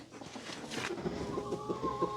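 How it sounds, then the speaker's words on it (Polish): A rooster clucks and calls in short repeated bursts, fairly close, over a low background rumble with a faint steady hum. "Chodź, kogut."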